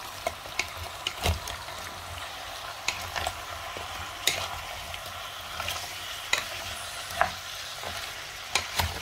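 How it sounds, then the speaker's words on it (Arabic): Chopped vegetables for a vegetable soup sauté in a pot, a steady sizzle broken by repeated sharp scrapes and taps of stirring, close and moderately loud. "غادي نديرو كلشي يتشحر"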